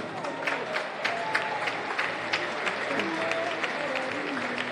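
A crowd applauds steadily throughout, dense clapping with a few louder bursts, filling the space.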